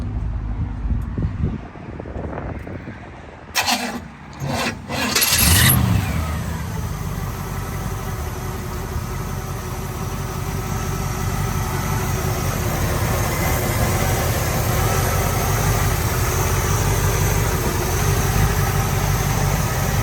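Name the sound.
1967 Chevrolet Camaro engine idling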